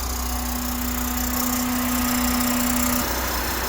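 Honda Civic sedan engine running steadily after an engine swap, a constant close idle drone with a steady hum that cuts off near the end while the engine keeps going, no talk.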